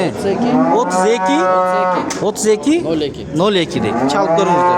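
Local dairy cattle low again and again at a livestock bazaar in Sokuluk, loud and close, one long moo rolling into the next with little pause, while someone speaks faintly in the background.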